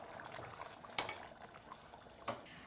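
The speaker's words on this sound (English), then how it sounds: "this is bubbling away." Beef stew simmers in a pot, giving faint, irregular bubbling and soft liquid pops with a couple of sharper clinks standing out.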